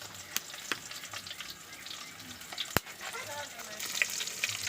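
Leftover adobo meat sautés in a pan for pancit cabagan, giving a quiet continuous sizzle with sharp spattering pops and occasional clinks of a utensil.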